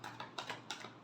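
Tarot cards being shuffled by hand, a quiet run of soft papery riffles and flicks in three or four short bursts, close and faint, with no voice over them.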